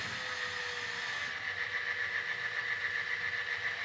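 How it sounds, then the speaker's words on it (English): HO scale model C&O passenger train at a station on a layout, a steady continuous mechanical hum with a high whine, moderately loud and alone throughout. "The C&O passenger train will stop here briefly to load and unload passengers."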